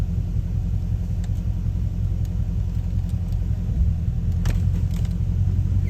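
A Dodge Scat Pack with straight pipes idles during a ZF8HP transmission fluid service, giving a steady, deep exhaust rumble close by, with a few faint light clinks over it.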